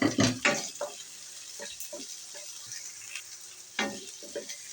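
Ginger and onion sauté in a pan for stir-fried ampalaya with pork, giving a soft sizzle punctuated by scraping, stirring clinks and utensil knocks.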